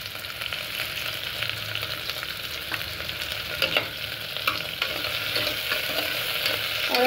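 Onions fry with curry leaves in a pan for Anglo-Indian railway mutton curry, giving a steady close sizzle broken by scraping stirs and light clinks of the spoon.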